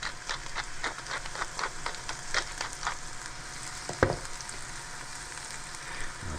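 Sardines wrapped in sorrel sauté in a hot pan, giving off a steady crackling sizzle with scattered pops and one sharper clatter partway through.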